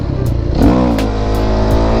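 A KTM supermoto motorcycle engine revs up loudly and close by, its pitch rising and then holding at a steady, buzzing drone.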